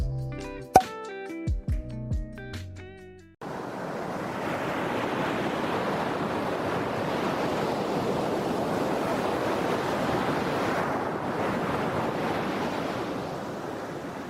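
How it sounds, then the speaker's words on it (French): Ocean surf washes in steadily and loudly as a continuous broadband rush with slight swells, after a brief opening of unrelated musical tones. "C'est impossible de ne pas aimer le bruit de l'océan"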